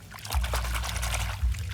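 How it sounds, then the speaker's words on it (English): A toy monster truck is shaken about in water, making close, steady sloshing and splashing with a couple of heavier low surges, and no one speaks over it. "before I check I have to shake it in water"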